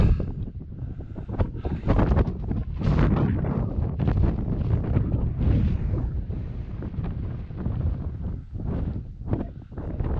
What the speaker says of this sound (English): That wind has got freezing.